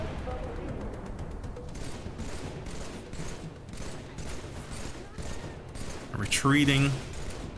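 Rapid gunfire from a weapon in the video game Halo 3, a steady stream of shots mixed with game effects and a louder burst near the end, running under continuous talk.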